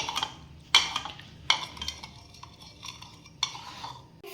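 Pizza dough ingredients stirred in a bowl, with a few sharp spoon clinks against the side and softer scraping between them, close and without talk.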